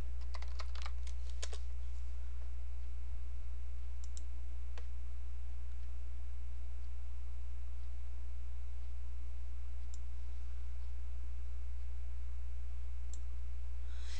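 Computer mouse clicking and dragging, a cluster of quick clicks near the start and then a few isolated sharp clicks spread out over a loud steady low hum, with no talking.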